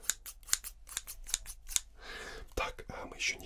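Household scissors snip in quick, crisp cuts, several close sharp clicks in a row, followed by a softer rustle and a few more snips, recorded close for ASMR with a faint whisper.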